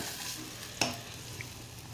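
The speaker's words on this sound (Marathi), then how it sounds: "व्यवस्थित मिक्स करून घ्यायचंय।" Watery curry paste stirred in a pan: a quiet, continuous bubbling sizzle with one sharp clink of a spoon against the pan partway through and a softer tap later, close and without voices.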